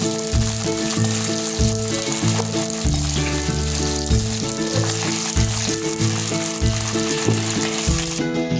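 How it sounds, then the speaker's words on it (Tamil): A steady, loud sizzle of onions frying in a hot pan, crackling continuously close up, with no talking. "வெங்காயம் இப்போ ஒரு விதம் நல்லா வணங்கியாச்சு."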